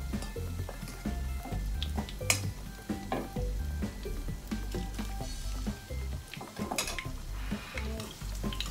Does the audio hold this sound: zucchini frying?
yes